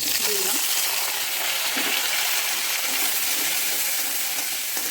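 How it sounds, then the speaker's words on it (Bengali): Chopped onion frying in a pan with oil, a continuous close sizzle and bubbling hiss throughout, with a few faint knocks of a spoon beneath it. "একে একে সবগুলি ভেজে নেব দেখতে থাকো কুচানো পেঁয়াজ"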